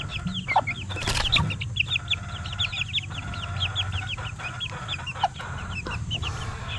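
Young chickens in a coop on a poultry farm cluck and peep almost nonstop at close range, with bright chirps repeating over a steady low barnyard rumble.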